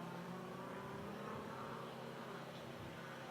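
A Nissan GT-R race car at Pikes Peak downshifts into a left-hand turn at Picnic, its engine a faint, distant roar that rises and falls under steady background noise.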